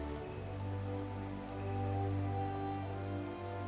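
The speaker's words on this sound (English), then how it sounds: "It was a rain dance, that's why it started raining." Rain falls in the video game Final Fantasy XIV, a steady, fairly loud hiss of drops on surfaces with a low hum underneath and no voices.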